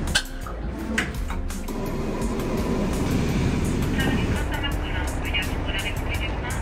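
Steady rumbling of a moving train heard from inside the carriage, headed to the French Alps, with rhythmic clicks and rattles over a continuous low roar.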